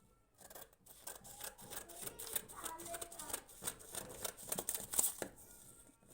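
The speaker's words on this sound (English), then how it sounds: "I would draw my line and then I will cut it off." Scissors snipping through paper along a drawn line for a corset-with-yoke pattern, a quick run of crisp close cuts with soft paper rustle, fairly quiet.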